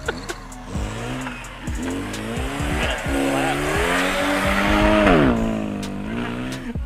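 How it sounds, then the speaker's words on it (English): A go-kart drifts with loud, wavering tire squeal that rises and bends in pitch over the engine's buzzing whine, with short clicks early on and voices shouting underneath. "Drift car."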